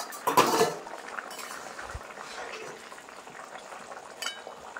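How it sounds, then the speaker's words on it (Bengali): A metal lid clanks as it is lifted off a cooking pot of boiled taro, a sharp close clatter followed by faint kitchen rustling and soft utensil clinks. "এবার ঢাকাটা খুলে দেখবো যে সেদ্ধ হয়েছে কিনা কচুটা।"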